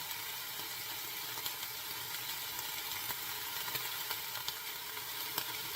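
White onion browning in a pan gives a steady, even sizzle with faint crackles and small pops scattered throughout, close and continuous with no talking.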